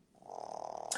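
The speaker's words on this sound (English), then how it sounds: "I hear the snoring." Pets snoring on a sofa, a soft close rhythmic purring snore that rises and pulses steadily in the quiet of a room.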